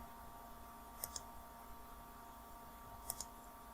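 Two sharp mouse clicks on a computer's run button, each a quick double tick, close and quiet over a faint steady hum, about two seconds apart.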